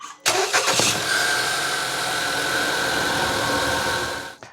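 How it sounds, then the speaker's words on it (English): An Acura TLX car engine cranks briefly and catches, then settles into a steady, fairly loud idle heard up close until it cuts off at the end, with no talking. "And I'll go ahead and start the vehicle."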